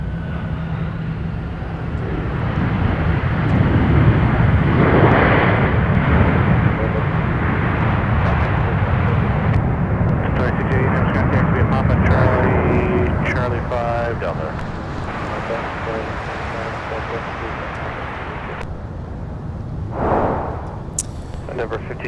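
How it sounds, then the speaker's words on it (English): A CRJ regional jet arriving at MSP airport roars past as a broad, loud rush that swells early and slowly fades, with wind buffeting and a voice talking over it. "Here's our arriving CRJ"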